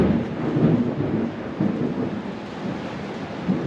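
Steady rain falls outside with a low rolling rumble of thunder beneath it, a dense continuous wash at moderate level with no talking.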